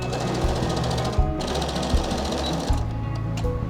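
A sewing machine runs steadily, stitching binding onto a fabric collar raw edge, with a continuous fast mechanical whir and rapid needle chatter plus slight speed changes.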